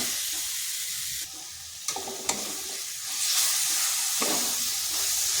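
Palm fruit pulp and sugar filling stirred in a hot pan, a steady sizzling hiss with a few sharp scrapes of the spoon against the pan, close and alone with no voices.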